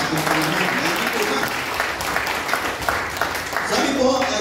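A church congregation applauds loudly, steady dense clapping filling the space, with a voice speaking over it.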